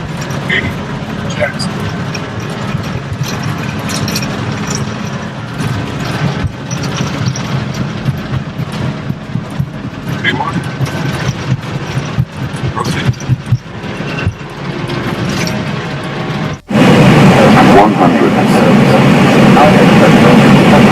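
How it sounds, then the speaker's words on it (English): An airliner takes off and lands in low visibility, its jet engines roaring steadily under speech, then a sudden cut to a louder, denser roar near the end. "have a look at this clip showing low visibility takeoff and landing"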